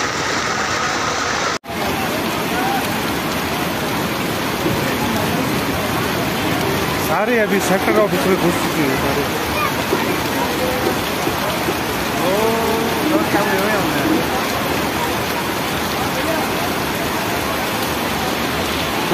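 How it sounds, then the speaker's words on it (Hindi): Heavy rain pours down during a cloudburst in Kedarnath, a dense, continuous hiss of downpour throughout, with people talking under it and a brief sharp knock near the start. "भयंकर बारिश हो गई है।"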